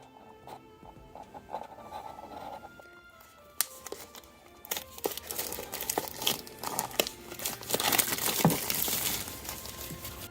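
Plastic wrap is torn and crinkled off the box of a cheap counterfeit AirPods Pro 2 earbud set, starting as sparse close crackles and sharp rips, then building into dense, loud crumpling toward the end.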